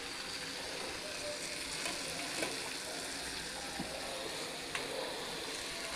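Fish curry with broccoli and potato sautéing in a pan, a steady moderate sizzle and bubbling with occasional faint stirring scrapes, no voices.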